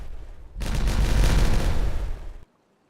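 Explosives detonating in the Timberborn game set off a dense, loud burst of rumbling blasts lasting about two seconds, then cutting abruptly to silence.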